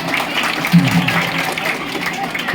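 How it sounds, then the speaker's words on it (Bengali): A school audience claps for the guests, a moderate, continuous patter of applause lasting a couple of seconds. "রাজারা জন্য জোরে হাততালি হবে।"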